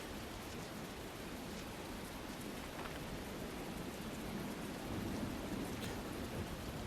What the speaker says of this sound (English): It's raining. Shouldn't you find some shelter?